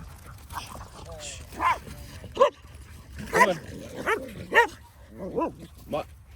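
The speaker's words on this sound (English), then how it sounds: "Yeah, they might bark." Several dogs barking and yipping in short bursts nearby while someone on a walk speaks over them.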